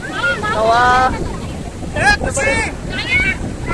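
Sea waves wash onto the Konkan coast near Ganpatipule, a steady broad roar buffeted by wind noise, with people talking loudly over it throughout.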